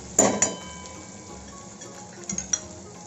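Onions stirred and sautéed in oil in a pan for a traditional Agri-style dried bombil and potato curry, with a few scrapes and clinks of a spoon against the pan over a soft, steady sizzle.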